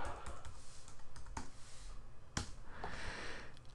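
Quick, light keystrokes on a computer keyboard while a template name is typed, a few scattered clicks with brief pauses, close and fairly quiet.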